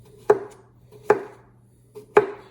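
A knife cuts through cucumber into fairly thick slices on a board, three sharp, distinct chops spaced about a second apart with a softer tap before the last, close up and alone.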